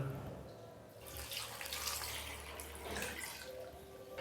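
Tap water runs into a cooking pot for chicken biryani, a steady close splashing pour lasting a few seconds with no talk over it.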